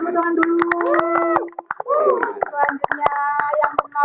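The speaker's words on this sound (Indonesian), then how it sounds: "Tepuk-tepukan dulu." A small group claps hands in scattered, uneven bursts over about four seconds, with young voices talking and laughing loudly over the applause.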